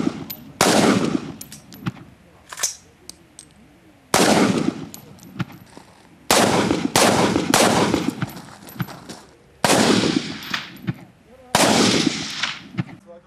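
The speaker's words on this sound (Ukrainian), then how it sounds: "Учасники змагань стріляють з карабінів." Sharp carbine shots ring out at a Ukrainian practical shooting championship in Khmelnytskyi, fired in rapid strings of several loud cracks, with short pauses between strings and echoes trailing after each burst.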